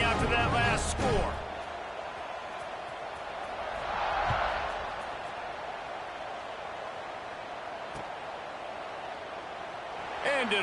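Stadium crowd at a college football game, Hawaii against Georgia Tech, heard as a steady distant roar that swells briefly in the middle, with a commentator's voice and a sharp knock at the start.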